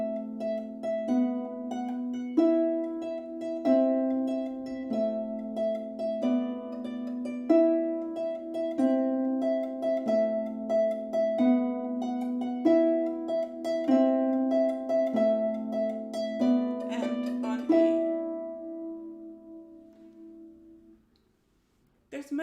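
Solo harp improvising on a skip-beat rhythm, repeating plucked patterns over a steady low figure for about twenty seconds, clear and close, then ringing out and fading to silence.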